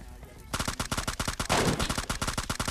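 Rapid automatic rifle fire from MK14 and M4 guns in a shooting video game, a dense string of close, loud shots starting after a short quiet lead-in and continuing to the end.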